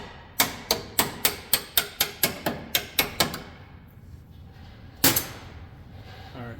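A makeshift hammer strikes a bolt during a transfer case and front yoke replacement, eleven sharp metallic blows in a fast steady rhythm, then a pause and one final loud hit, close and clear.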